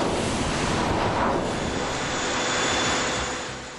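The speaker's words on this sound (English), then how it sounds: "The ship now has to break its way through metres of thick ice." A ship forces its way through metres-thick Antarctic ice, making a loud, continuous roaring rush of engine and grinding noise that swells and then eases slightly toward the end.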